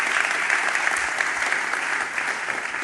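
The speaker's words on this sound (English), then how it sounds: "Please give a nice warm round of applause for our guests." An audience at a Bitcoin Amsterdam conference talk claps in a warm, sustained round of applause that stays dense and even throughout, with no voices standing out.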